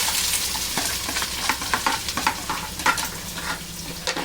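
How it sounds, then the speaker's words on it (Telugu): Garlic and onions sizzle in plenty of hot oil, a steady close frying hiss with irregular clicks of a spoon stirring in the pan, no talking. "వెల్లుల్లి వెంటనే ఉల్లిపాయలు వేసుకున్నాను"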